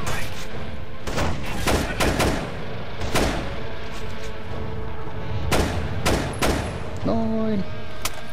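Machine gun fire in Rainbow Six Vegas 2, with loud bursts of shots and heavy booms spaced irregularly over a continuous game soundscape, under someone talking.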